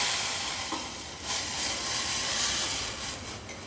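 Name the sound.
cooked moong dal added to hot tempering of green chilies and curry leaves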